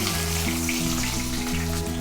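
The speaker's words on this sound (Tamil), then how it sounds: "இப்போ நம்ம எடுத்து வச்ச வெங்காயத்தை ஆட் பண்ணிடலாம்." Onions sizzle and crackle in hot oil in a pan, a loud, steady frying hiss close up with a low electrical hum underneath.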